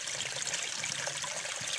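Spring water trickles out of the ground among bushes in the hills near a river's headwaters, a steady soft burble of flowing water, close and continuous.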